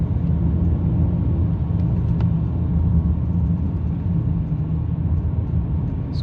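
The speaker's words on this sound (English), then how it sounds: "the car pulls away really well" A BMW 740i V8 gives a steady low engine and road rumble as it pulls away, heard from inside the car. The drone stays loud and constant throughout, with no talking.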